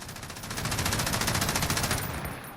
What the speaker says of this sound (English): I just want to fire off some rounds for you